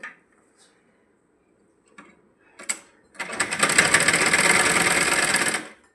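A sewing machine stitching a blouse seam starts after a few faint clicks and handling noises, then runs in one fast, steady, close mechanical whir for about three seconds before stopping.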